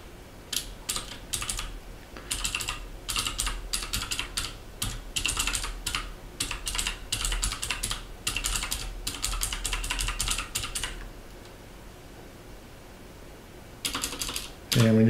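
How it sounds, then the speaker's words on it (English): Rapid keystrokes on a computer keyboard as a git clone command and repository URL are typed in, dense bursts of close clicking for about eleven seconds, then a pause and a short final run of keys, with no talking over it. "So we'll do a git clone command and type in the URL."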